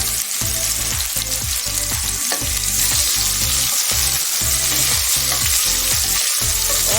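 Three to four medium-sized chopped onions frying in oil in a cooker, for aloo gosht; a loud, continuous close sizzle with a repeated rhythmic stirring pulse and no talk.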